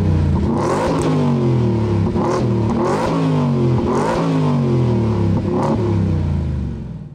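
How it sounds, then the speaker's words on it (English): A 2023 Ford F-150 Raptor R pickup in Baja exhaust mode, its engine revved hard several times in a row, each loud, close blip rising and falling back to a deep rumbling idle. "Or you can change it over to Baja mode, which also has quite a sound. Take a listen."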